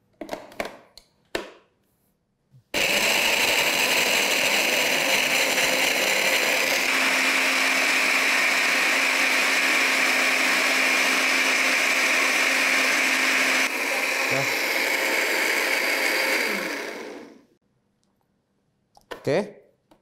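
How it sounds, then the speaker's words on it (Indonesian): A kitchen blender grinds raw spice paste with about 150 ml of water, a loud steady whirring drone lasting roughly fifteen seconds with a brief pitch shift midway, preceded and followed by small clicks and handling sounds. "Nah, kemudian kita blender."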